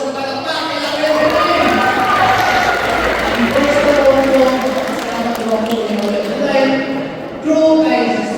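A church congregation applauds at a 30th anniversary gathering of the El Shaddai Montreal chapter, a loud, dense wash of clapping and crowd noise sustained for several seconds, with voices mixed in.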